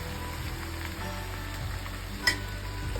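Country chicken curry being stirred in a pan, giving a steady close sizzle and frying hiss with one brief clink of a spoon against the pan near the end.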